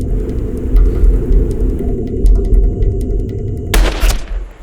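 A hunting rifle shot fired at 300 yards bursts out near the end as one sharp, loud crack over steady low rumble and wind-like noise.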